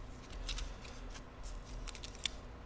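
Playing cards shuffled by hand during a tabletop Marvel Champions card game session, a few soft riffling bursts that are quiet and close, with no voices.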